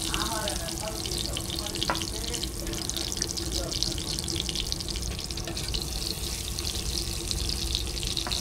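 Eggplant slices fry hard in hot oil at a roadside food stall by Mawa Ghat, a steady broadband sizzle running throughout with voices talking over it.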